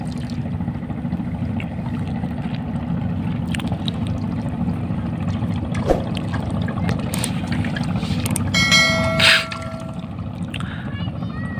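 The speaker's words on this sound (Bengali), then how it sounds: "আসলে আজকে নদীটা অনেক ব্যস্ত, অনেক ট্রলার যাচ্ছে।" Fishing trawlers on a busy river, a constant low engine drone rolling across the water with small splashes and clinks nearby, and a brief beep toward the end.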